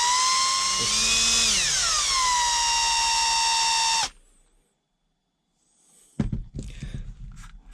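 A loud, steady high-pitched drill whines for about four seconds, drilling the center section of an RC crawler, its pitch sliding down briefly, then cuts off; after a pause, clattering handling noises follow.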